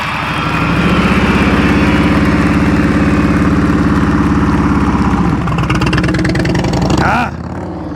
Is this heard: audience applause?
no